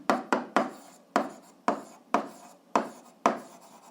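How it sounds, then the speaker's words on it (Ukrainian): A physics equation is written out by hand, producing a series of about nine sharp pen or chalk strokes with brief scratchy tails, spaced irregularly and close up, with no talking. "Записуємо собі умова."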